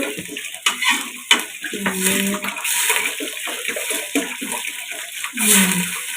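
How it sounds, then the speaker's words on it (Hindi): Water is poured into a pot of mixed lentils for Pakistani dal, a close splashing and trickling in short bursts with light pot and utensil clatter. "ये मैंने पानी ऐड कर लिया"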